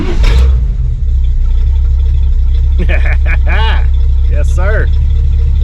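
An engine fitted with a new Evil Energy performance carburetor, warmed up, idles with a steady low rumble throughout, while someone talks over it and another voice answers briefly.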